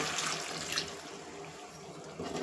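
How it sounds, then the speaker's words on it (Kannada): Water pours into a pan of pumpkin curry, a close, steady splashing wash that fades slightly midway and swells again at the end. "ಇವಾಗ ಇದಕ್ಕೆ ನಾವು ನೀರನ್ನು ಹಾಕೊಳ್ಳೋಣ ಬೇಯೋದಕ್ಕೆ"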